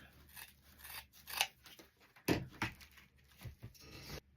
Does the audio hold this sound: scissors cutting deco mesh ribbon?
yes